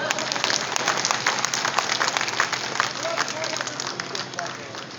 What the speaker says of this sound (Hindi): ताली बजाओ, ऐसे बैठे मत रहो।